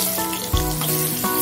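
Eggplant and potato slices frying in oil, a steady close sizzle with a brief low thump partway through, no voices.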